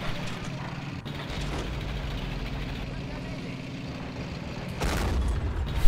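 A tank cannon fires in the war game Men of War: Assault Squad 2, aimed at a Marder. An engine rumbles steadily before one heavy boom lands near the end. A voice talks over it.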